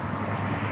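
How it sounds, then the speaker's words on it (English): An airplane comes in to land at sunrise, heard as a steady, broad engine roar at moderate distance, continuous for the short moment with no break or voices. "and the plane's landing."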